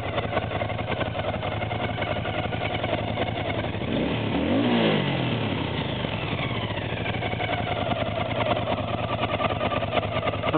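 A car engine with carburettors, started on a cold, frosty day, idles steadily, then revs up once and falls back to a rough idle. There are no voices.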